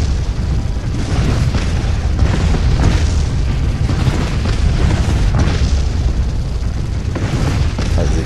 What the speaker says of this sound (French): Les explosions, c'est jouissif.